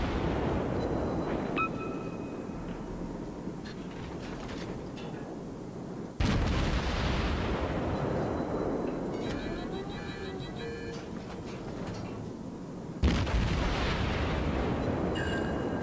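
Ship's guns in a naval video game fire in a long continuous barrage, with loud booms spaced about six seconds apart over rumbling engine and water noise, close and dense.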